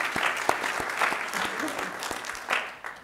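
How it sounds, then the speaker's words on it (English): A Baptist church congregation bursts into warm, steady applause, many hands clapping at close range, with a voice speaking over it. "let's give Freddie another round of applause"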